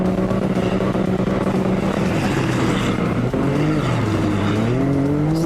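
A System 3 SS360 four-wheel-drive off-road RC car on sand tires climbs a steep sandy hill, its electric motor whining steadily and rising, then dipping and swooping in pitch as the car slides sideways, loud and close throughout.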